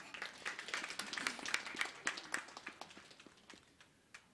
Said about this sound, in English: Another round of applause for Madam Gatambi.